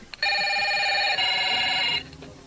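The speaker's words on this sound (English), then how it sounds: "Uncle Waldo is attempting to place a phone call through the operator." An old-style telephone bell rings in a radio play as a single sustained electric ring of about two seconds, clear and close, then cuts off into quiet room tone.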